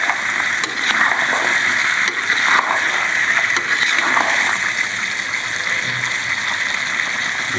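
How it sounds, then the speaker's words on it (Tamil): Water poured into a pot of mutton bone (nalli elumbu) gravy with tomato and cinnamon, a steady gushing splash that runs continuously with small irregular surges, fairly close. "இந்த நல்லி வேகிறதுக்கு வந்து ஒரு ஓரளவுக்கு தண்ணி விட்டுப்போம்"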